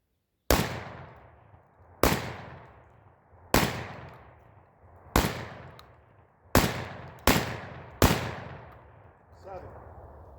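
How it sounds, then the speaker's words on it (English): A Panzer EG200 shotgun fires buckshot rounds into a stump at a steep downward angle outdoors, giving seven loud, sharp blasts about 1.5 seconds apart, each followed by a decaying echo. "we're shooting a stump at a steep down angle"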